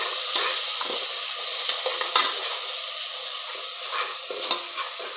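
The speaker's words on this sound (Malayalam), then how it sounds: "നന്നായിട്ട് വറുത്തെടുക്കണം." Biryani masala fries in a pan with a constant close sizzle, while a utensil stirs and scrapes it in several sharp clicks and scuffs.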